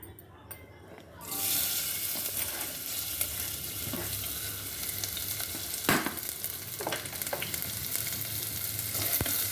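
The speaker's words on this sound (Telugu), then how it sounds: "నూనె పోసినాక ఉల్లిపాయలు వేయాలి." Sliced onions frying in hot oil for a gokarkay curry, a steady close sizzle that starts after a quiet second and carries on with occasional crackles and utensil clicks.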